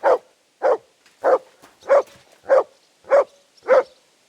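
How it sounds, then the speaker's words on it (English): A dog named Mutt in Kingdom Come: Deliverance II barks seven times in a steady, evenly spaced rhythm, each bark loud and close with brief silence between. "Good dog, Mutt."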